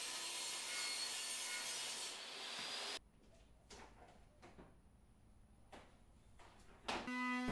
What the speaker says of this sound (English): So we're going to trim the long side as well.